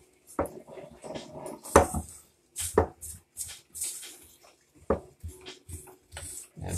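Baking powder biscuit dough being mixed in a bowl, with irregular knocks, scrapes and clatters of a utensil against the bowl at close range, some louder hits standing out.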